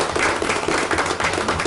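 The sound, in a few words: applause at a county fiscal court meeting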